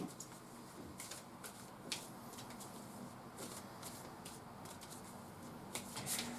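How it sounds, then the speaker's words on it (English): Tarot cards being shuffled in quick riffling bursts, a soft papery flutter that repeats steadily, close by and fairly quiet. "as I shuffle this deck"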